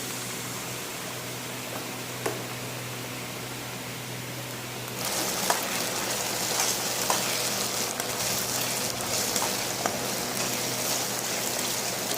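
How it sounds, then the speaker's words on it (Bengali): Chicken pakora frying in oil; a cornflour slurry is poured in and the sizzle suddenly swells into a dense, steady hiss with a few small pops, close and continuous. "এটা বাটিতে ওই যে কর্নফ্লাওয়ারের ঘোলটা সেটা দিয়ে দিচ্ছি"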